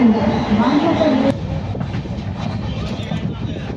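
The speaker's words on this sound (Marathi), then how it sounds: "वसईवरून आता ही ट्रेन पुढच्या प्रवासासाठी सुटली आहे." A Bandra Madgaon Express train pulls out of Vasai station, a broad rumbling roll with faint rail clatter, close and steady throughout.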